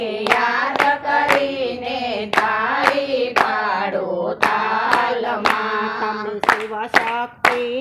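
Hands clap in steady rhythm to a Shiva Shakti bhajan, sharp regular claps over loud sung devotional melody with accompaniment, close and continuous.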